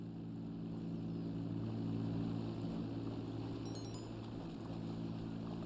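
A propeller airplane flown by an NPC in GTA Online drones steadily with a loud, continuous buzzing engine tone that swells slightly midway, with faint high clicks near the end.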